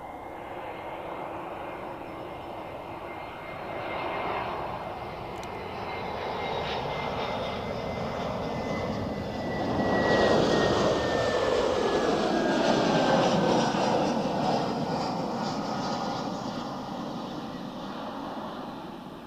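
A fixed-wing airliner lands at Zurich Airport, its broad engine roar swelling and washing past nearby with a falling whine, then easing to a steady rumble over wind through the rest.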